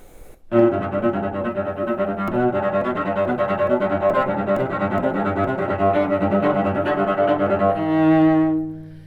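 Bowed strings churn through a rapid repeating figure, dense and loud for several seconds before settling into a fading sustained chord.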